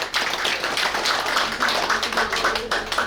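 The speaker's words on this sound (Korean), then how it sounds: "박수로 환영해 주시기 바랍니다" An audience at a Korean clan gathering claps to welcome a speaker, a continuous crowd of hand claps with a bright, even texture lasting the whole stretch.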